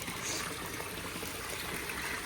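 Water spills over the edge of a newly filled, low-budget garden pond in a soft, continuous trickle, faint and steady throughout.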